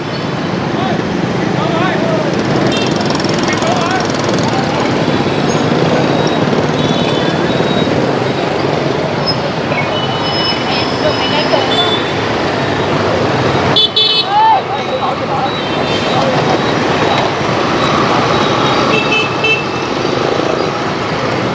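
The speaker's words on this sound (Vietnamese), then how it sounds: "Xe cộ tấp nập quá." Busy night street traffic in Saigon's Cho Lon district: a steady roar of motorbikes and cars with scattered horn toots throughout, close and loud, while people talk over it.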